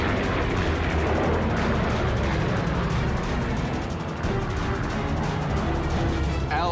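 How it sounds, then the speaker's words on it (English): Anti-aircraft guns open up at an airfield at night, dense rumbling bursts and booming fire layered into a continuous loud barrage. "The airfield below erupts with anti-aircraft fire."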